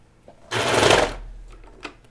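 A sewing machine runs in one loud, dense burst lasting about half a second as it stitches through three layers of fabric on a cardigan, then stops, leaving quiet room sound with a few faint knocks.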